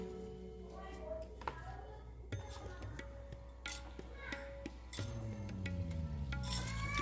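Amla candy is tossed and stirred with granulated sugar in a pot, giving soft scraping and occasional light clinks under a steady background hum, with someone speaking over the stirring.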